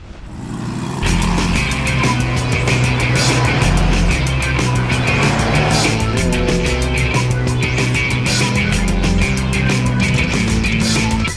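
A BMW X5 engine roars steadily at high revs on the Nürburgring with tonal drone and passing mechanical whine, loud and continuous, driving fast on the track.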